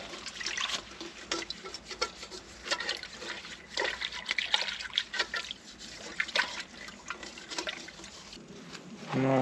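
Water is sprayed to rinse a car radiator in irregular splashing bursts, pattering and trickling at close range, with short pauses between spurts and a louder gush at the very end.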